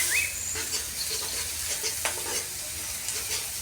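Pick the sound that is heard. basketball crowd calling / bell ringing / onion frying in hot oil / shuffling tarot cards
onion frying in hot oil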